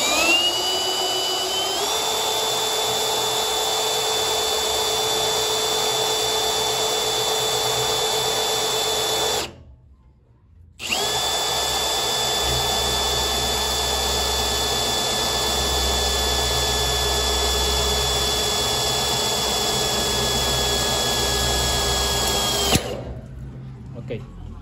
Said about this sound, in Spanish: Y vamos a hacer la perforación.